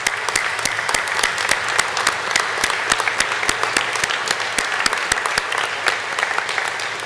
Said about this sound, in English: with a warm round of applause, join me in thanking your family and friends who are here today.